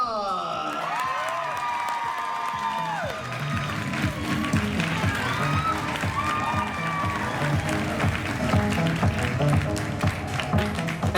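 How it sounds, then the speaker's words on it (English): Applause from the audience at an anime cosplay contest. A voice speaks at the start, then a crowd breaks into sustained clapping and light cheering that builds and carries on steadily. "Let's hear it for Britta."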